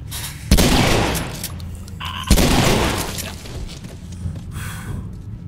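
Gunfire while fighting a Bloater in a video game: two loud, sharp blasts, each with a long rumbling decay and a steady background bed.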